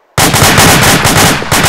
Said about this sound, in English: Fire off 3 shots at your target